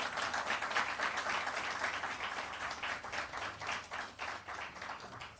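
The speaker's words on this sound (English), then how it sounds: "I want you to give her another round of applause" Sustained audience applause at a public lecture and launch event, a dense steady patter of many hands clapping across the whole stretch, tapering slightly toward the end.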